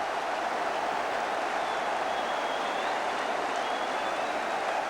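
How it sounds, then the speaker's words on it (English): A 1970s football stadium crowd applauds Tony Currie of Leeds, a steady, dense roar of distant clapping and cheering that holds at an even level throughout. "And Tony Curry milks the applause that is so deserved."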